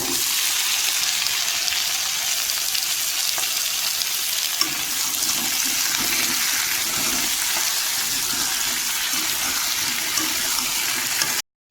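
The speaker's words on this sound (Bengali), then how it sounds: "এদিকে তেলটা হয়ে গেছে, এবার এই যে কেটে রাখা কচুরমুখী আলু দিয়ে দেব।" Cut taro corms drop into hot oil in a home village kitchen and fry, a dense, steady hiss and crackle that carries loudly and evenly throughout.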